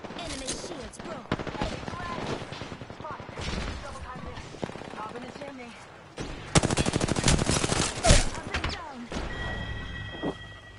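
Rapid bursts of automatic gunfire and single shots in a battle royale video game, loud and close, firing in dense clusters with brief pauses, mixed with game effects and voice callouts.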